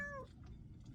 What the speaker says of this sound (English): With my cat Beano